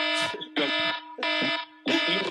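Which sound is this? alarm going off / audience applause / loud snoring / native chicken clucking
alarm going off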